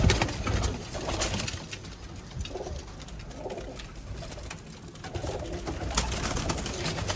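Pigeons at a pigeon-flying gathering in Sialkot coo in soft, repeated low calls. Wing flaps and scattered rustling are mixed in, with steady background noise.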